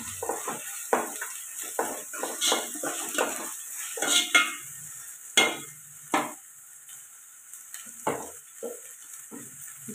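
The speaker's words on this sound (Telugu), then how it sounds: "ఉల్లిపాయలు అయితే ఇలా ఫ్రై అయ్యాయి కదండి, ఇప్పుడు ఒక స్పూన్ దాకా అల్లం వెల్లుల్లి పేస్ట్ అయితే వేసుకున్నాం." Sliced onions and a spoonful of freshly pounded ginger-garlic paste fry in a pan for egg curry. A spoon scrapes and clinks against the metal in irregular strokes over a soft, steady sizzle, with no talking.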